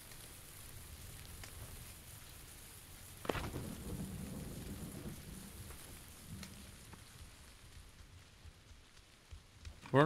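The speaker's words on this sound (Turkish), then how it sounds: "Ama çok kötü ya yağmur sesi cidden." Rain in PUBG, a steady hiss of falling drops that swells into a denser downpour midway, with a low rumble underneath, continuous and fairly close.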